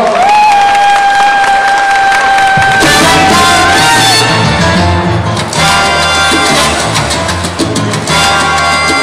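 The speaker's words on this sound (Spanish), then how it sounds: "još jedan put pozdravite ih velikim aplauzom" A large audience at a salsa dance club performance breaks into loud, sustained applause with cheering and whoops, rising over a fading musical tone and continuing strongly to the end.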